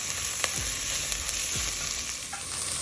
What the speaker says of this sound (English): I'm putting 3 cloves of garlic in for another 30 seconds